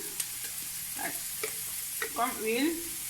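A teaspoon of pure coconut oil heats in a frying pan, giving a soft, steady sizzle beneath a few scraping and stirring clicks in a quiet kitchen.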